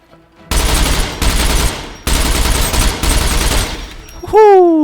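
Sustained automatic gunfire from the survival game Scum rattles in two long loud bursts with a brief gap between them, followed by a rising electronic whine at the end.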